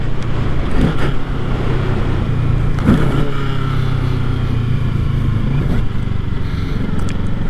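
A brand-new 2025 Kawasaki Ninja 650 motorcycle engine drones loudly and continuously up close, held at moderate RPM with slight rises in pitch, alongside road and wind noise.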